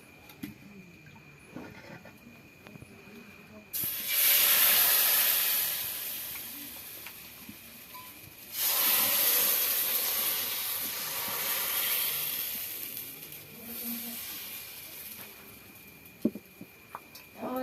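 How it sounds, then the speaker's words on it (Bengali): Pitha cakes frying in a pan at home, quiet room tone at first, then two long stretches of loud hissing sizzle as batter hits the hot pan, fading between bursts. "আর এই যে ভাজছি, তো দেখো আমি কিভাবে ভাজছি"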